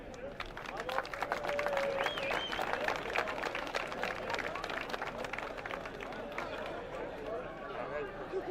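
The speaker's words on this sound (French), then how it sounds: "que vous vous applaudissiez vous-même" A crowd at the awards ceremony for the historic Châtel hill climb applauds itself, with thick, sustained clapping mixed with cheers and a few whistles, while chatter and voices rise through the noise.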